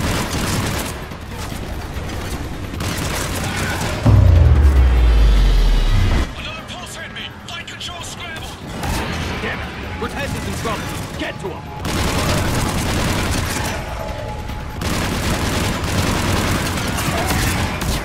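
Covering fire in Mass Effect 3 rattles as sustained gunfire bursts with deep booming blasts and mechanical clatter, loud and continuous, under voices calling out.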